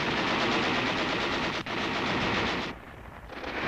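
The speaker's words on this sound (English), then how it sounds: "Gunfire broke out, and the Japanese had mounted a machine gun, a heavy machine gun" Heavy machine gun fire from a Japanese position in a cathedral steeple tower during fighting in the Philippines, a dense continuous roar of loud rapid gunfire that cuts off abruptly near the end.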